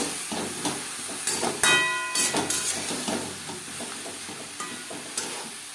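Khichuri with turmeric powder and salt is stirred in a pan; a spoon scrapes and knocks against the metal in irregular strokes over a soft steady hiss of cooking.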